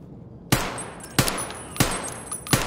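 Gunfire in Escape from Tarkov, four loud sharp shots spaced about half a second apart, each with a short ringing tail, close and alone without talk.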